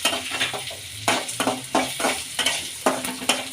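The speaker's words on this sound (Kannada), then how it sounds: "ಎಲ್ಲನೂ ಒಂದು ಸ್ವಲ್ಪನೇ ಮಾಡೋದ್ರಿಂದ ಒಟ್ಟಿಗೆ ಹುರ್ಕೊಳ್ಳೋಣ" Urad dal, chana dal, cinnamon, sesame seeds, cloves and coriander seeds are dry-roasted together in a pan, with repeated scraping strokes of a spatula over a soft sizzle and rattle of seeds, close and steady.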